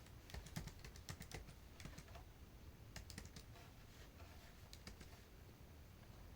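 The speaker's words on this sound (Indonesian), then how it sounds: "Kita ketikkan perintahnya." Quiet, rapid typing on a computer keyboard as a command is entered, with a steady run of soft key clicks and a few brief pauses.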